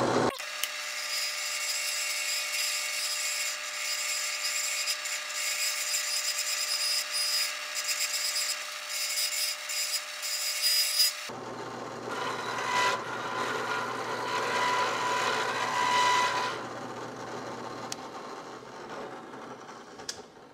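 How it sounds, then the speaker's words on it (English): A smoother, less aggressive cutting bit on a rotary tool grinds along the edge of a wooden automata base, a steady high whine for about eleven seconds, then a lower, rougher rasping pass continues; no speech. "So to put a nicer finish on the edge of this base, I put in this much less aggressive, much smoother cutting bit."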